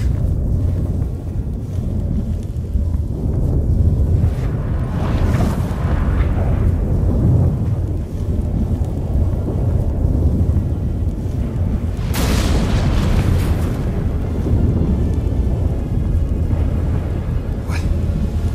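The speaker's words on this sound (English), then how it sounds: "That a storm?" A storm rolls in The Witcher 3 with deep rumbling booms and heavy gusting wind, a thick low roar lasting throughout, broken by sharper thunderous cracks about a third and two thirds of the way through. No one speaks.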